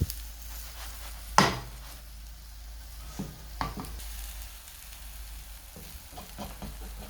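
A chocolate chip pancake fries in a hot pan with a steady, even sizzle. One sharp metallic clank sounds early on, followed by a few soft scrapes and taps over the hiss. No one speaks.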